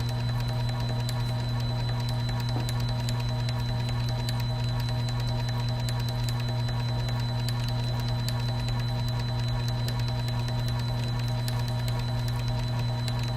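A brine cell system pump hums steadily with a strong constant tone and fine mechanical ticking, running at a continuous rate throughout.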